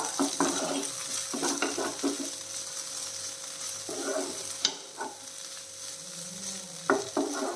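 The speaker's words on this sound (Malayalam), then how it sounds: "കണ്ടോ കറക്റ്റായിട്ട് വെന്ത് കിട്ടിയിട്ടുണ്ട് അതിൽ വെള്ളമൊന്നുമില്ല നല്ല രീതിയിൽ ഇളക്കി കൊടുക്കാം" A cooked, dry cowpea thoran is stirred in a pan, with intermittent spatula scrapes and light pan knocks over a soft, continuous sizzle, fairly quiet and close, without talk.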